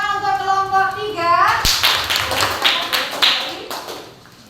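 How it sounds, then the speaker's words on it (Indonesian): Children in a classroom clap for Group 3 after their presentation: a dense, bright wash of many small hands clapping together, close and loud, starting abruptly after a stretch of voices and fading slightly at the end. "Tepuk tangan untuk kelompok 3"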